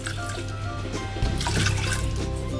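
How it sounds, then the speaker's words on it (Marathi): Water poured into a pressure cooker onto uncooked rice, a close, continuous splashing gush that grows fuller partway through. "त्यामध्ये हे पाणी घालते।"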